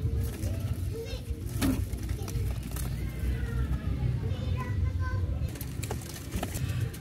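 Pigeons coo on a rooftop loft amid a busy outdoor background, with children's voices and people talking nearby and occasional bird calls mixed in.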